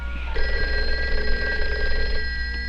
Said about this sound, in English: That must be Ralph calling to check up to just be sure I'm not going to bother Gina